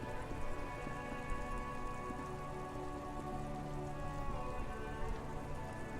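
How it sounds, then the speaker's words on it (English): Steady rain patters continuously in the video game Disco Elysium, a dense hiss of drops on a surface with a low ambient hum underneath and no voices. "It's raining again."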